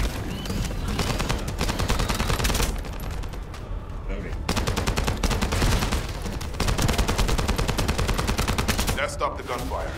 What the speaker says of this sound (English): Stop the gunfire.